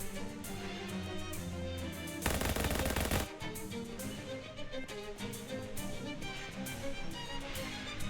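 Gunfire in the video game Shadows Over Loathing, heard as a burst of rapid shots around the middle over a quiet musical game background.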